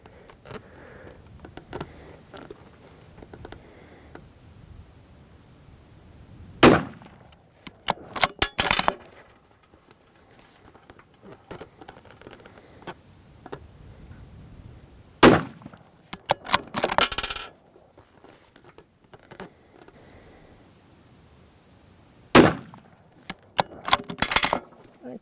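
A 22 Nosler M48 Heritage rifle fires Nosler RDF factory ammunition in three loud, widely spaced shots, each sharp crack followed by rattling and clattering from working the action, with quiet stretches between.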